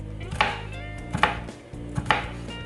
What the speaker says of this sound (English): You want to smash them and then slice them